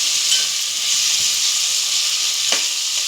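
Ginger garlic paste frying in a pan for carrot rice, a loud continuous sizzle and hiss close up, with faint stirring scrapes underneath.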